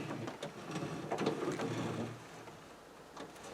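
The window regulator mechanism moves inside a 1962 Ford Galaxie 500XL door whose window does not work, giving faint close clicking and grinding with a brief stretch of mechanical rattling that fades toward the end.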